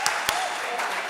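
A short, dense burst of conference audience applause at a midwifery and child health meeting, steady and fairly loud throughout, with a couple of sharper clap accents.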